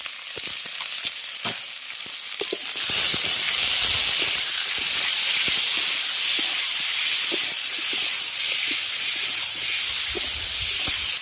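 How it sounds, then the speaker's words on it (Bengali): Chopped green tomatoes hit hot tempered oil and burst into a loud, close sizzle after a few early clatters, then hiss steadily with occasional stirring scrapes and no talk. "আমি এর মধ্যে দিয়ে দিচ্ছি কেটে রাখা টমেটো"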